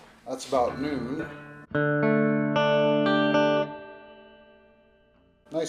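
Guitar notes ring out through the spring reverb of a Roland JC-55 amp set around midway, a few sustained chord tones swelling then decaying smoothly, preceded by brief speech at the start.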